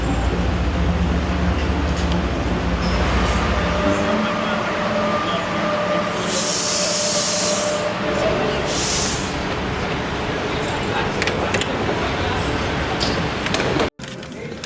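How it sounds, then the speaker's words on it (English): Inside a moving train headed to Boston, a continuous low rumble and rattle of the carriage fills the cabin, with brief hissing bursts partway through and a sudden cut near the end. "So we're on the train heading to Boston."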